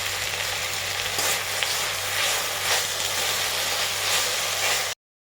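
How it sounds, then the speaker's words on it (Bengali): Elephant apple pieces sizzle in a pan with spices, a steady close frying hiss with faint stirring scrapes throughout, no voices, ending abruptly. "আর একটু ভালো করে ভাজা ভাজা করে নিচ্ছি।"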